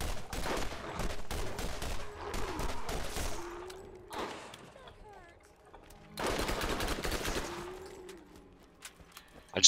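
Gunfire from the video game Borderlands, with bursts of shots and rapid fusillades in two main clusters separated by quieter stretches, close and fairly loud, with a voice speaking at times between the shots.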